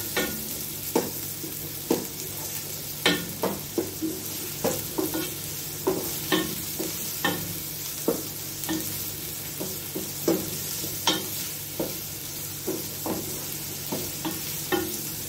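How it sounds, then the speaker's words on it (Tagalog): Sea bream fries in a pan with a constant low sizzle, punctuated by a steady series of sharp scrapes and taps from stirring roughly every half second, close up and without speech. "Medyo i-fry muna natin ng bagya yung ating mga fish."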